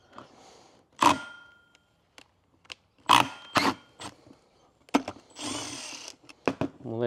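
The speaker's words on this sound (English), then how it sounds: "we're gonna be using nothing but this right angle die grinder" A right angle die grinder works on a lawn mower blade in a few short, sharp bursts separated by pauses, with some lighter handling noise between them.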